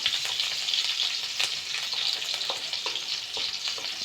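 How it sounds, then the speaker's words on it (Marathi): Green chilies fry in a pan of hot oil for quick homemade noodles, a steady close sizzle with scattered crackles and a few light clicks of stirring throughout. "आता हिरवी मिरची टाकायची आहे."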